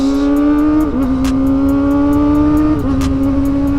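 A motorcycle engine accelerates gently at first with a loud, steady drone; its pitch dips briefly twice as it shifts gears, then keeps climbing.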